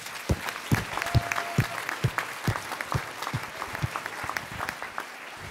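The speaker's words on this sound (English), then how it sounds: "So join me in a round of applause for you." Audience applause at an army family forum, steady moderate clapping with distinct individual claps audible throughout, somewhat distant in the hall.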